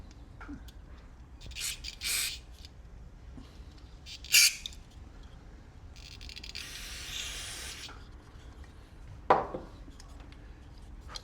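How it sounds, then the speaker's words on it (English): Short hissing bursts of aerosol carb cleaner sprayed into carburetor holes, followed by one longer sustained spray, mixed with clicks and handling noises. "I just go through and I spray every little hole I can come up with."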